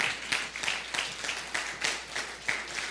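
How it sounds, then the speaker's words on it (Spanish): A church congregation claps for the Lord in a steady, rhythmic beat, sharp bursts recurring every third of a second at moderate, slightly distant volume, with no talk over it. "Dele un aplauso al Señor, hermano."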